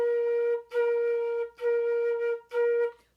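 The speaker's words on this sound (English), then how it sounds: "Let's do some tonguing next." A flute plays a tonguing exercise: four sustained, clearly tongued notes on one pitch, each separated by a short gap, close and steady with no talking.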